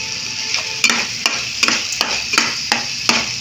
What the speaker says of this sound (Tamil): நாலு காடை நாலு பீஸாக கட் பண்ணி வச்சுருக்கோம் ஒவ்வொன்றும் இப்போ வந்து வதங்கிக்கிட்டு இருக்கு